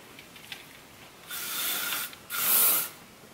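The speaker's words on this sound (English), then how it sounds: "now I'm gonna be using the spray, some hairspray by L'Oreal El Nat Satin" Two bursts of L'Oreal Elnett Satin hairspray hiss onto hair, a longer spray followed by a louder, brighter one after a brief gap, close and alone with no talking.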